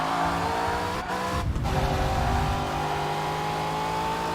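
A race car in TOCA Race Driver 3 slowing hard at Spa-Francorchamps, its engine note dropping steadily over a loud, continuous drone, with a brief tyre scrub partway through.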